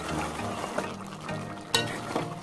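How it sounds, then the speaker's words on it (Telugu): A prawn, egg and drumstick curry being stirred in a pan: soft scraping and sizzling with a sharper knock of the spoon near the end, close up, with no talking. "బాగా కలుపుకుందాము"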